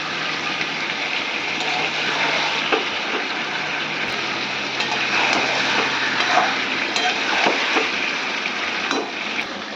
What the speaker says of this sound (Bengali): এই জন্য ভালো করে আরও কষাতে হবে আমার।